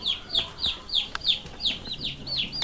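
Chicks on a poultry farm give a rapid, even series of high, downward-sweeping peeps, about three each second, with faint clucking in the background.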